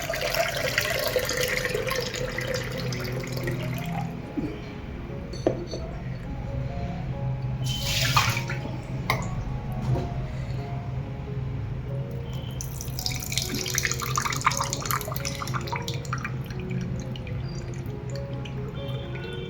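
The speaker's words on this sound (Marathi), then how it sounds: "याच्यातलं पूर्ण असं पाणी काढून घेणार आहे" Water pours and trickles steadily as it is drained from soaked sago, with splashing and dripping, close by and moderately quiet throughout.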